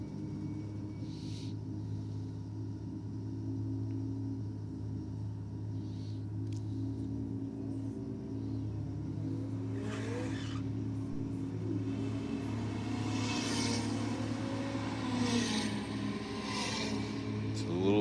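A Gemini panel van launches down a drag strip, a low, steady engine rumble heard from a distance that swells slightly as it pulls away, with faint crowd and track ambience around it.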